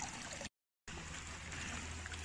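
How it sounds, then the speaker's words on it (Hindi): Clean drinking water from a spring flows out of the ground in a village, a steady close rushing trickle that cuts out briefly and then resumes at the same level. "देखें जी यहाँ पे साफ पानी आ रहा है पीने का"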